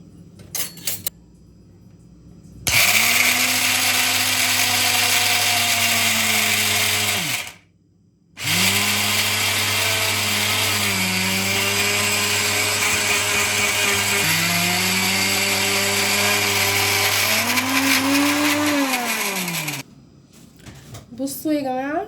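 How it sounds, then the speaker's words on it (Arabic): An electric blender grinds sesame, peanuts and flour for tahini, running loud and steady in two long stretches with a short pause between them and a change in pitch as the mix thickens. "وبعد كده نطحنها في الخلاط"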